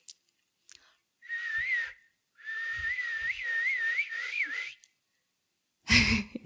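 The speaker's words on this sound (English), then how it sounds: "that is my bird Icarus. He is singing along with us quite cheerfully." A pet bird whistles and sings indoors in a few clear, warbling phrases, the longest rising and falling over about two seconds, with short pauses between bursts and little else around it.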